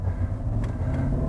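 A used Maserati Quattroporte cruises on the road, its engine and road noise forming a steady low drone from inside the car, with a couple of faint ticks over it.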